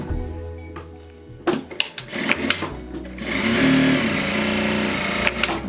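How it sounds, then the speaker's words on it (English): A sewing machine stitches a fabric storage container in a close, steady mechanical whir that starts after a few handling knocks and shuffles and holds for a couple of seconds. "So I'm just going to sew a few inches and leave your centerpiece open."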